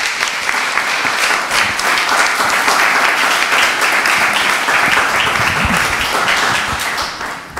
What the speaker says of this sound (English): please join me in giving them all a warm round of applause and welcome.